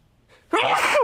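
A single close sneeze bursts out suddenly after a quiet inhale, loud and sharp, ending with a brief voiced tail.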